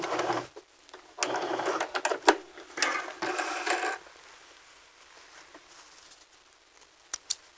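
A sewing machine stitches in short bursts during a neckband backstitch, rapid close mechanical patter with pauses, then fades to a few faint clicks.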